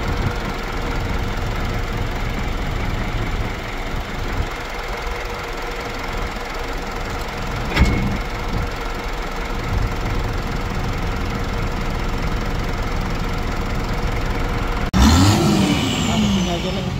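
A 2012 Hino FM 260 truck's diesel engine runs with a steady knocking rumble close by, then a sharper rev swell near the end, while people talk over it.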